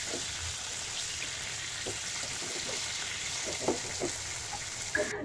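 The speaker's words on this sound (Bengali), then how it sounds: "তেলাপুয়া মাছটাকে আমি ভেজে নিচ্ছি।" Tilapia fish frying in hot oil, a soft continuous sizzle with faint crackles and a few small pops, heard close with no talk.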